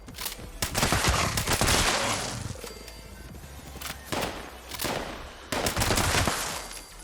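Repeated gunfire from The Fixer, an explosive rifle in Fallout 76, rings out as loud bursts of rapid shots separated by short pauses, with no talking over it.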